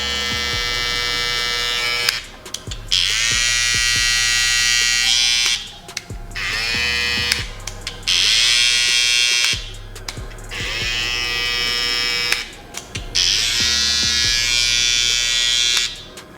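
Babyliss Pro Silver FX and Gold FX hair clippers switched on in turn, each giving a loud, steady high-pitched motor buzz in repeated bursts of a few seconds separated by brief gaps, close and without talk.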